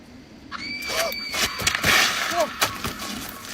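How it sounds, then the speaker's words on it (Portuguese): A couple of shrill, high-pitched, agonized screams like a woman in distress ring out in an open forest, brief and piercing, with scattered noise around them. "Um grito agonizante desesperador pode ser ouvido na redondeza, como se fosse alguma mulher em apuros."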